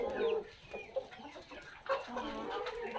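Backyard chickens in a cage, native hens among Black Australorp and Brahma birds, clucking and calling in short, irregular bursts at close range, fairly quiet with no talk.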